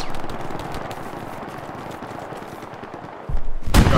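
Rapid gunfire from a multiplayer shooter game rattles in close, dense bursts, followed near the end by a heavier, louder volley with deep thumping impacts.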